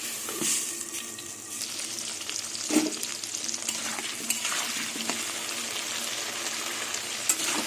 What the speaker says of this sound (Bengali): এবার আলুগুলো দিয়ে দেবো কটা আলুগুলো আলুগুলো ঢেকে ঢেকে ভেজে নেবো